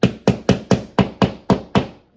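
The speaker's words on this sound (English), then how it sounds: "I'm not even using a very big hammer, just a little bitty hammer here" Eight crisp, close taps ring out in a steady quick rhythm as a small hammer drives a nail into a no-drill TV mount fixed to a wall, clear and unaccompanied by talk.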